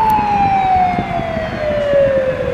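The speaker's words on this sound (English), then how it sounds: "follow that fire truck" A Montreal fire truck siren wails steadily in a long descending tone, loud and close on a city street, with traffic rumble underneath.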